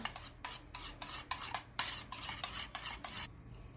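Spices being stirred into a dish for a Navratri fasting thali, a rapid run of close, scraping strokes about every quarter second, with no voice.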